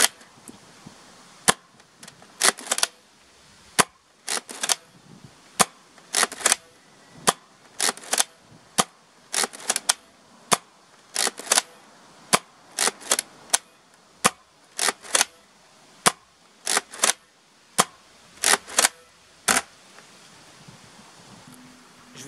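A Nerf Mega Thunderhawk blaster fires a full magazine of Mega AccuStrike darts, giving a long run of sharp, evenly spaced pops, each a loud close crack with a short air burst, and brief gaps between shots.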